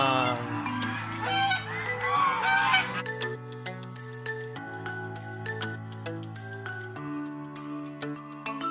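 Geese honking at Kuntum Farmfield in Bogor, a busy overlapping chorus of loud, nasal calls close by, dense at first and then settling into repeated single honks from several birds.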